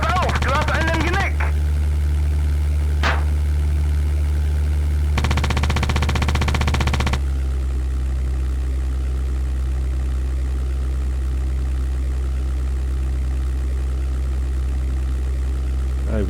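A World War II fighter's piston engine roars steadily in the European Air War flight simulator, with bursts of aircraft machine-gun fire early on, loud and close; German voices come over the radio.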